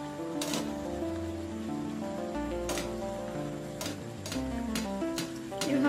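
Aloo puri deep-frying in hot oil, giving a steady, close sizzle that runs unbroken for several seconds beneath a background of tonal music.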